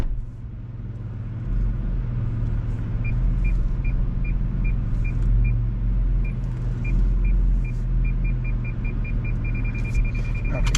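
Car engine idling and rumbling steadily in a parking area, with a repeating electronic beep like a parking sensor ticking faster toward the end as the vehicle is parked.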